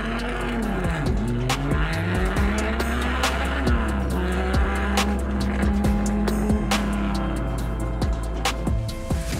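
Porsche 911 and E-Type Jaguar classic cars racing at Tour Auto, engines revving with shifting pitch and tyres squealing, continuous and close with sharp clicks throughout.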